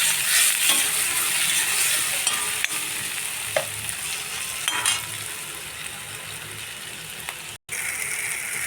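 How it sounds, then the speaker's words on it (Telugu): Onion, green chili, curry leaves and tomato fry in a pan, a continuous bright sizzle punctuated by occasional scraping stirs of a utensil, close and steady, with no speech. "పచ్చిమిర్చి, కరివేపాకు, టమాటా బాగా వేయించుకున్నాము"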